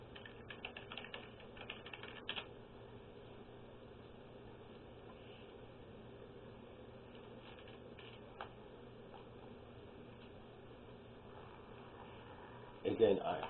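Typing on a computer keyboard to launch RetroPie on a Raspberry Pi, a quiet run of soft key clicks through the first couple of seconds, then faint scattered taps over a low hum, with a louder burst near the end.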